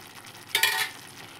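Chili, coriander and turmeric powders with garam masala and salt frying for a fish curry, a brief rush of sizzle lasting about a quarter second over faint background hiss.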